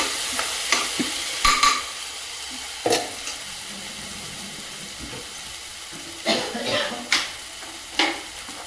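Bottle gourd (ghiya) bhurji is stirred and roasted in a pan: a soft, steady sizzle under intermittent close spoon scrapes and clattering knocks against the metal.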